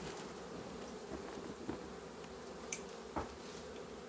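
Honeybees buzzing in a queenless hive in February: a steady, dense hum fills the clip at low level, with a few brief closer buzzes passing by and no talking.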